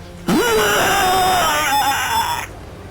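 A human voice imitates the digitized screams of a cyberpsycho, producing one loud, sustained, buzzing electronic-sounding wail that rises sharply at the start, wavers, and cuts off abruptly after about two seconds.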